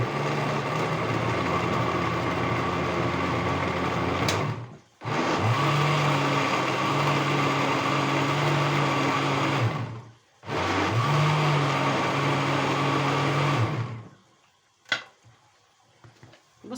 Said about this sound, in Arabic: وهنضرب في الخلاط